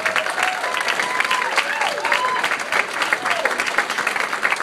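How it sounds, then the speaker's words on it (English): Wedding guests applaud the parents and the bridegroom. Steady, dense clapping from a crowd fills the room throughout, with scattered cheers and voices over it. "please join in a round of applause for the parents and the bridegroom"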